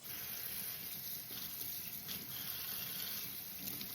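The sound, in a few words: rinsing arugula leaves under a running tap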